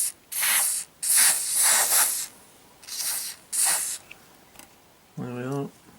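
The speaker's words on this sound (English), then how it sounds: "So we'll give the pedals a spray" XCP Green One lubricant sprayed onto bicycle pedals in several loud hissing bursts of varying length, with a squeak near the end.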